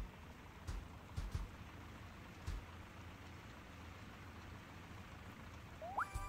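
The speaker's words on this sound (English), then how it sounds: "I'm supposed to do this in the rain?" Steady rain hiss in the Wobbly Life video game, faint and even throughout, with a few soft low knocks and a brief rising electronic tone near the end; no voices.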